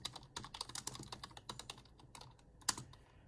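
Typing on a computer keyboard, a book title being keyed into a search field: quick, irregular clicks of the keys in short bursts with brief pauses, close and clear, with no talking.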